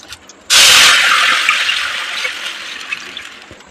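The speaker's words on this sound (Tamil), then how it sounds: "மழை தண்ணி ஊற்றிக்கலாம்." Collected rainwater gushes into a cooking pot in one sudden loud pour that starts abruptly and keeps rushing steadily, easing slightly toward the end, with no voices.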